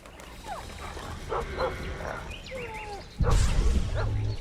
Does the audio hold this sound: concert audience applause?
no